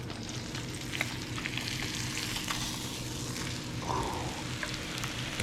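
Bluegill fish fry in a pan with a steady crackling sizzle, close and moderately loud, with occasional pops and a short scrape near the end.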